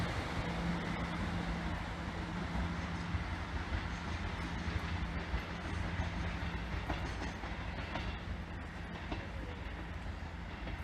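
Train 158960 bound for Cardiff Central runs through Salisbury, its steady rumble and rail clatter sustained and fairly near, with faint wind mixed in and no talk.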